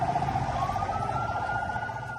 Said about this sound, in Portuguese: sirenes das ambulâncias.